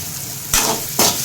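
Onions and green chillies sauté in a new clay pot, giving a close, steady sizzle. Two quick scraping stirs of a spoon against the pot are heard, and no one speaks.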